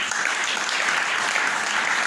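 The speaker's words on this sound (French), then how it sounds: "Applaudissons notre Dieu." Church congregation applause during a French-language worship service, a bright, even wall of clapping that fills the whole short moment without letup.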